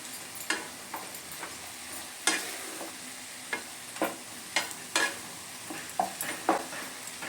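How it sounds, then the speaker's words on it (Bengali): A spatula stirs spinach with flat beans, eggplant and lentil dumplings in a pan, giving sharp, irregularly spaced scrapes and taps over a faint, steady sizzle, with no voices. "খুব ভালো করে নেড়ে দেব"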